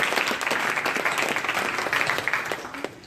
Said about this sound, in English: Round of applause for them both.